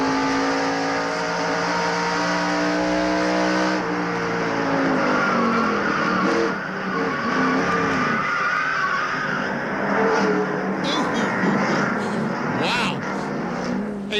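A 1995 NASCAR race car sliding sideways at Bristol: roaring engine and squealing, skidding tires, close and loud, with commentators talking over it.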